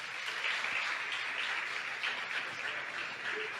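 Church congregation at a Nazarene Tuesday worship service applauding the Lord, a steady, dense wash of many hands clapping at a moderate distance, with no talking over it.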